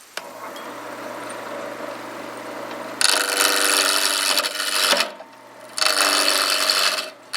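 A carbide cutting tool takes material off a piece spinning on a wood lathe during a northeast Iowa artists' studio tour. Steady turning hum runs throughout, with two louder scraping cutting passes, each a couple of seconds long, separated by a brief pause.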